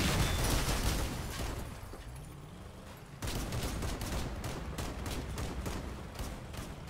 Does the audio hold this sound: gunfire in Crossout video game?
yes